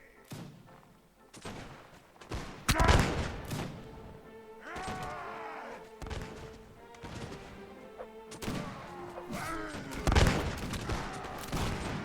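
Massed musket volleys and scattered gunshots crack repeatedly in a Napoleonic-era battle in the game Mount & Blade: Warband, loud irregular bursts with clashing thuds between them.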